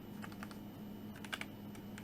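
Typing HTML code on a computer keyboard: quiet, close-up clicks and taps in an irregular run of keystrokes over a low steady hum.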